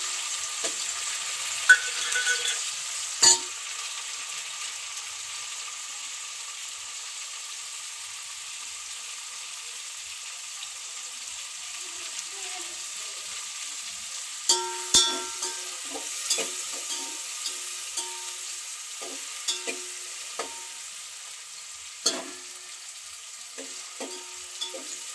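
Onions and tomatoes frying in a pan for a village-style crab curry, a steady faint sizzle with scattered clicks and scrapes of stirring, sharper knocks near the start and toward the end.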